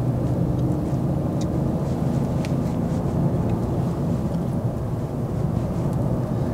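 Inside a moving Renault Clio Intens, a continuous low road and engine rumble fills the cabin at steady volume, with faint small clicks over it.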